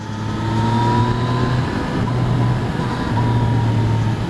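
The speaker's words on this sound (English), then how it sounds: "the throttle response is fantastic on this bike" A 2016 Yamaha XSR-900 motorcycle ridden over rough road, its engine droning steadily with a wavering low tone and heavy wind rush throughout.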